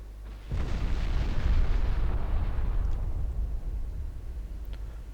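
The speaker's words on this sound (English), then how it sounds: "Well, decent torpedo hits on" Torpedo hits explode against a cruiser in a 1964 naval combat game, a sudden heavy blast followed by a long, deep rumbling roar that slowly fades.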